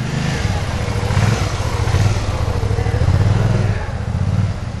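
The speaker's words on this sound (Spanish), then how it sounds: "recorrió en una motocicleta las instalaciones del comando de policía" A police motorcycle engine runs at a medium, fairly steady idle with slight surges, fairly close, amid background voices and clatter.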